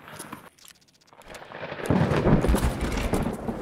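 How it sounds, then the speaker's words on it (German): Thunder in the shooter game Escape From Tarkov, a low rolling rumble that builds after a short lull and holds steady, broad and moderately loud with no talk over it. "Jetzt habe ich einen Donner auch gehört."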